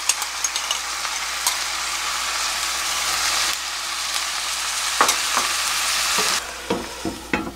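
Seasoned dried croaker in a pan, its sauce sizzling and bubbling loudly and steadily up close, with a few sharp clinks and crackles toward the end and no talking.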